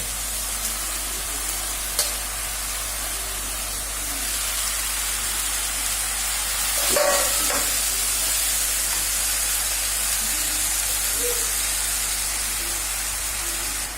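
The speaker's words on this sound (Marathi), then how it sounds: "आता आपण याला परतून घेऊ" Fenugreek leaves with turmeric and chilli being sautéed in a pan, giving a steady soft sizzle and hiss with a few faint stirring scrapes and one brief clatter midway.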